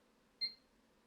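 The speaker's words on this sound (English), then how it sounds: "One short beep, which it does at the start" A single short, high-pitched electronic beep from a computer at startup, signalling the graphics card was detected, faint and clean, against near silence.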